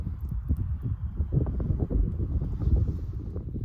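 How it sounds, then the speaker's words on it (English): Steady low wind in Algonquin Park buffets and rumbles against the microphone, continuous and fairly loud, with no voices. "It's a little bit windy, a little bit cloudy"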